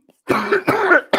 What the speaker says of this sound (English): that was a COVID cough right there